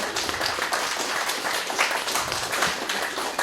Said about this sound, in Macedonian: Еден аплауз за нив